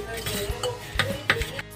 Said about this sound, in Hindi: अच्छे से फेंट लेंगे।